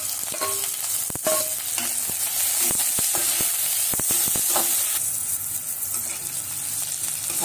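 Garlic, curry leaves, ginger, peppercorns and cashews roasting in a pan for green egg curry masala, a bright steady sizzle broken by repeated crisp spatula scrapes and taps.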